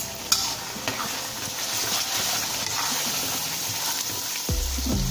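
Spice paste of chili, five candlenuts, a pinch of coriander and one large tomato sautéing in a pan, a steady sizzle broken by stirring scrapes and a few utensil knocks.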